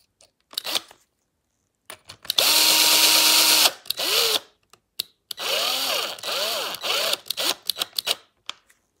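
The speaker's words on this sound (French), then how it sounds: "Tout ce qu'on visse à la visseuse, il faut y aller un peu doucement, doucement quoi." A cordless power screwdriver drives screws into a Traxxas X-Maxx RC truck, buzzing in several short whirring bursts that wind up and down, close and loud, separated by clicks and quiet handling.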